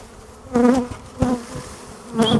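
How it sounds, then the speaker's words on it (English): Honey bees from a caught swarm buzz inside a nuc box, three loud, close buzzing bursts that swell and fade with no talking. "There are bees in here."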